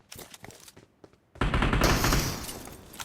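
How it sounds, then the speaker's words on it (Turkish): A flare gun fired in the video game PUBG Mobile, a sudden loud burst after quieter game noise that holds for over a second and then slowly fades. "Fişek atayım da oyunu biraz kızıştırayım."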